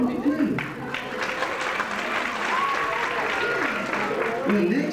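Audience applause at a 1995 college fiftieth-anniversary stage show, a steady wash of clapping across the whole stretch with voices and music-like tones mixed underneath.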